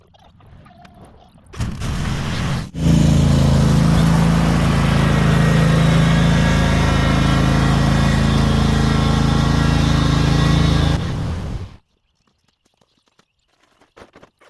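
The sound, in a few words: lawn mower engine starting and running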